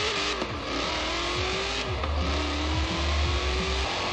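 A Dodge Demon engine revving in Forza Horizon 4, a loud steady drone with rising pitch sweeps as it accelerates through gears, alongside other racing cars.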